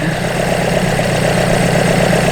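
A rebuilt Toyota Hilux engine runs steadily during ignition timing adjustment, a loud, even mechanical hum with a low throbbing drone and no talk.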